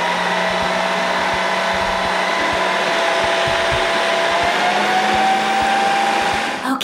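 A Ninja Creami Deluxe ice cream maker runs with a loud, steady motorized whir and high whine, broken by rhythmic low thumps from the spinning blade, before it winds down at the end.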